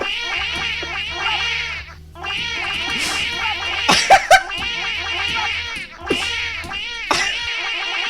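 A cat meows repeatedly, loud and close, in drawn-out wails with short pauses between, and a few sharp bursts mixed in.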